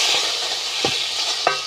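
Tomato with bay leaf, cinnamon and cardamom stirred in a hot frying pan: a steady sizzle with two or three scraping spoon strokes, close and alone.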